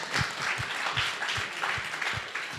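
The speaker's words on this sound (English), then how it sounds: "Give her a round of applause for that." An audience at an ASU+GSV 2023 education summit talk applauds: a steady, moderately quiet patter of many hands clapping continuously for a few seconds.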